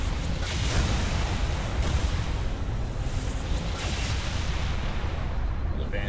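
Weapon fire aimed at a Banshee aircraft in the video game Halo Reach, a dense, continuous rumble of shots and blasts that fills the whole stretch at steady loudness, with game voices faintly mixed in.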